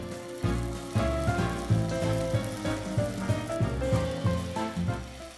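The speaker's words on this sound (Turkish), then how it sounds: "Ara ara ters çevirerek pişiriyorum." Spoonfuls of pancake batter fry in olive oil in a non-stick pan, a steady close sizzle with soft crackles and intermittent rhythmic tapping of the spatula.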